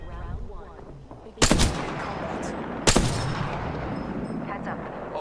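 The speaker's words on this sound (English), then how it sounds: "Opening fire on the enemy." Video game gunfire in a train yard map: two sharp, loud shots stand out above a dense, continuous bed of battle noise and distant firing, with muffled voices in the background.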